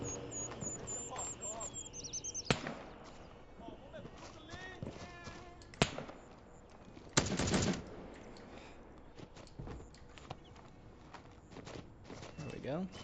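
Gunfire in the military shooter Gray Zone Warfare, scattered shots and a few louder bursts cracking through an ambient outdoor soundscape, with a player's voice talking intermittently over the action.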